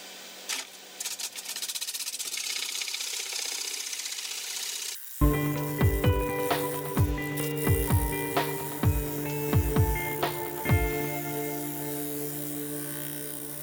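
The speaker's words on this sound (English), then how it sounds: "I'm just going to give it a nice little bit of a shear scraping in there just to finish up in there" Shear scraping with a wood lathe inside a natural edge vase: a steady high hiss of the spinning piece, then a strong harmonic hum under a run of rhythmic tool-contact ticks, close and fairly loud.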